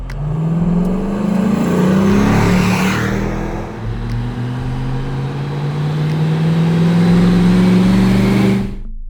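A 1997 Land Rover Defender 110 with a GM LS3 V8 and 6-speed automatic drones steadily and loudly with a low, rising tone as it drives, the pitch climbing gradually like it is accelerating through a gear.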